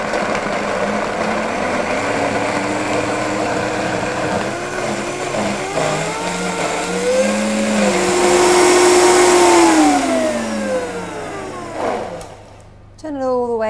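A kitchen blender running at medium speed, blending nut cheese, gives a steady loud whirring drone that shifts in pitch as the mixture thickens, then cuts off near the end, with a voice talking over it.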